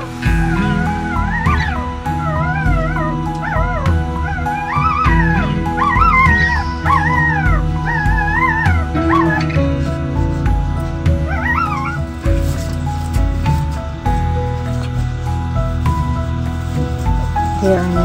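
Litter of six newborn Rottweiler puppies whimpering, yipping and squealing almost continuously at close range, many overlapping high cries with steady low rustling beneath.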